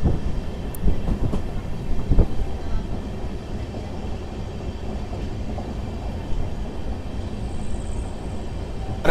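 The Tirupati–Secunderabad SF Express, an LHB rake, runs through a light curve near hills, giving a steady rumbling roar with faint wheel clatter and occasional sharp clicks.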